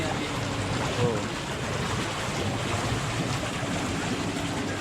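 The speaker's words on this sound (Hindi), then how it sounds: "ब्लोअर, ये देखा, वाह, प्रेशर का पानी आती है।" Hot tub jets in a wooden house in Gatlinburg, Tennessee, force pressurized water with a steady, loud, close rushing and churning that fills the whole stretch without a break.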